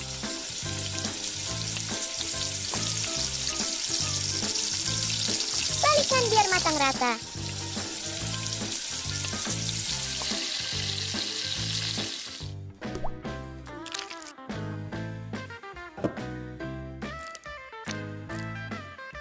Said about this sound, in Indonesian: Goreng di api sedang.